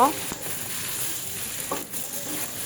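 Salted vegetables for a hilsa and raw green banana curry stirred and fried in hot oil, a constant sizzle marked by two distinct scraping strokes of the spoon across the pan.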